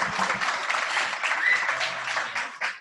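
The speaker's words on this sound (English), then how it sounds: "that was a bit of kind of end of the day clap" A tech meetup audience at the end of the day gives a modest round of clapping, steady then thinning out, with a few stray sounds near the end.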